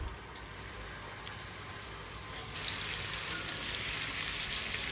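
Marinated food shallow-fries in a pan with a steady, close sizzling hiss that grows noticeably louder and brighter partway through and stays even to the end, with no talking.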